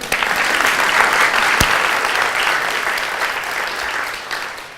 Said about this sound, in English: you have to applaud for him